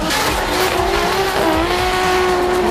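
A race car corners on a track at a motor racing event, its engine a loud, sustained high-pitched drone with a rising tone as it works through the bend, close and without talk.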